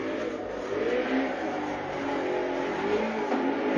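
A BMW engine in a sim racing game holds a steady, droning rev while drifting, a continuous whir with a faint tonal shift partway through, loud and alone.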